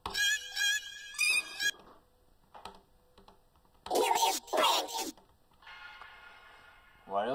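A music sample pitched up by 14 semitones, heard as squeaky, chirpy high-pitched bursts and scratchy fragments broken by short gaps, moderately loud and alone.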